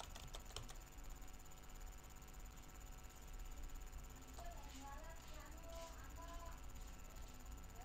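Faint, quick keystrokes of someone typing an Excel file name on a computer keyboard, a few clustered clicks at the start and more later, under a steady background hiss with a high insect-like drone.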